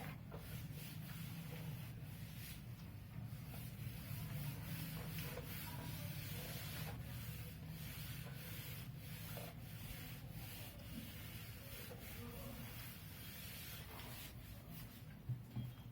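Steady scraping rub of a duster wiping writing off a classroom board, continuous for the whole stretch at moderate level with no talking.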